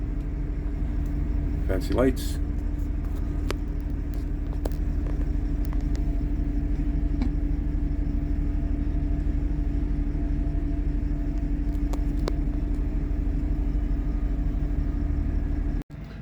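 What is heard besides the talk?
school bus motor running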